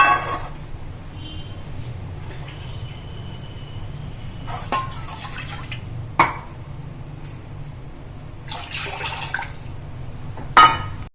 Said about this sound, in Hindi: ये देखिए इसमें 4 कप पानी मिला दिया।